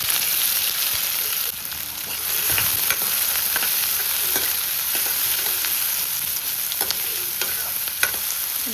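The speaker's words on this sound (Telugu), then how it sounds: "ఉల్లిపాయలు బాగా ఫ్రై అవ్వాలి." Thin-sliced onions fry in mustard oil with fennel and cumin seeds, giving a steady loud sizzle and crackle with occasional stirring scrapes throughout.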